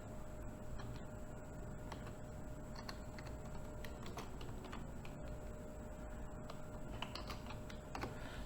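Light typing on a computer keyboard, a steady run of soft, quick key clicks with irregular spacing over a constant background hiss, quiet and close.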